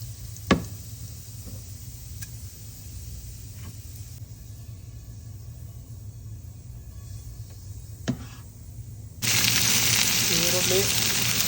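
Cumin seeds frying in peanut oil for a bhindi sabzi: a steady, fairly quiet background sizzle with a couple of sharp pops, swelling into a loud, dense hiss near the end as more goes into the hot oil.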